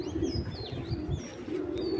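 Club pigeons coo in low, throaty, rolling bursts, with thin high chirps from other birds threaded above them throughout.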